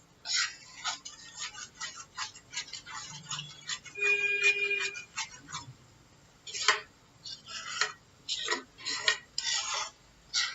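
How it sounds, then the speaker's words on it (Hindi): Egg bhurji stirred continuously in a pan over high heat, giving a run of repeated scraping and clinking spatula strokes against the metal with faint sizzling underneath, close and fairly loud. "इसे हमें कंटिन्यूसली तेज़ आंच के अंदर लगातार चलाते रहेंगे।"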